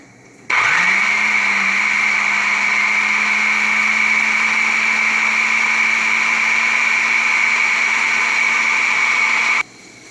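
A countertop blender whirs steadily for about nine seconds, mixing vegetarian queso with a tablespoon of lemon juice and a tablespoon of cornstarch, its motor spinning up quickly and holding a loud, constant high-pitched hum before cutting off abruptly, with no talking.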